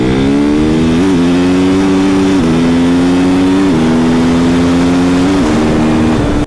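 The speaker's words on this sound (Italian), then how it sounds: "Quanto va forte quella moto" A motorcycle engine revs loudly and steadily, pitch rising and dropping in several surges as it accelerates, close by with no talking.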